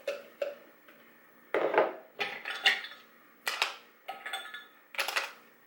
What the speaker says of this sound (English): I'm going to use the tall cup and put all my ingredients in.